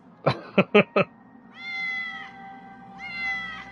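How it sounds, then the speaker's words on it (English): Cat meowing in the Batman Arkham City video game: two drawn-out, clear meows follow a few sharp percussive hits, standing out over a low game background. "Someone killed the cat."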